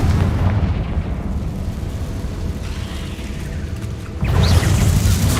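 A Confringo spell detonates in the Hogwarts Legacy video game, a rumbling sustained blast that swells louder near the end, with no talk over it.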